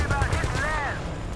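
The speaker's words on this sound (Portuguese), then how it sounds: "Monta a torreta e fica lá." Rapid bursts of mounted turret gunfire in Battlefield Bad Company 2, a quick string of punchy shots with tonal ringing, fairly close and mixed with a voice speaking over the action.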